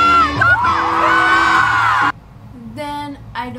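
A concert crowd at a show at Wheatland screams and whoops loudly for about two seconds, then the cheering drops away to scattered shouts and voices.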